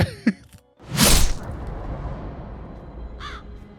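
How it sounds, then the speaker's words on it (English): A crow caws in a teaser trailer for the movie Hocus Pocus 2, a short cry followed by a louder, longer burst, then a faint call later over a low, steady rumble of background sound. "there's a crow, a really cool looking crow"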